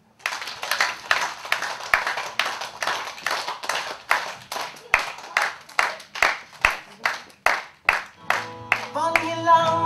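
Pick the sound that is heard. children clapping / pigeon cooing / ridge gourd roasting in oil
children clapping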